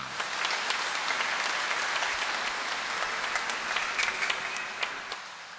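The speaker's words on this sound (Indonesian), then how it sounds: "Maka tepuk tangan untuk mereka semua." A church congregation applauds during a Sunday homily, a dense, sustained burst of clapping from many hands that fills the hall for several seconds before tapering off near the end.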